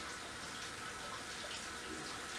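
Water runs steadily from a kitchen sink tap while dishes, including silicone paddles, are hand washed, a soft, even rushing stream with no clear clinks or breaks.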